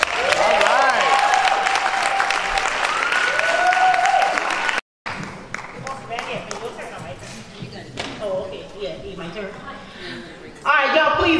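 A poetry event audience applauds Miss Georgia, with clapping and cheering running under amplified speech, a brief dropout midway, then scattered claps continuing beneath the host's voice.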